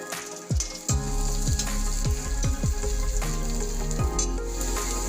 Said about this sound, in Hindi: अब मैं इसमें ग्रेट की हुई अदरक डाल देती